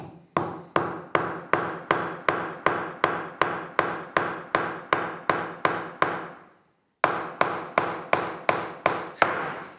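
A screw being hammered into wood with a hammer: a fast, even series of sharp, loud metallic-wooden blows, about fifteen in a row, a short pause, then roughly eight more strikes, close up with no talking.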